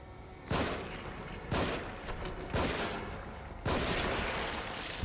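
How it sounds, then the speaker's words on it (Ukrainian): Four sharp gunshots ring out at uneven intervals, each with a brief echoing decay, like weapon fire in the video game The Evil Within. "Ну короче, стріляємо йому в грудь."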